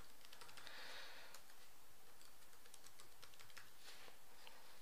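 Soft, quick key taps on a computer keyboard as a password is entered, a scattered run of light clicks close by in a quiet room with no talking.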